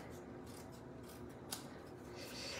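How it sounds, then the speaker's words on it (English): Scissors trim the extra edges off a handmade card, a quiet close run of crisp snipping and rubbing with one sharper cut midway and no talking. "now I'm going to trim off those extra edges here"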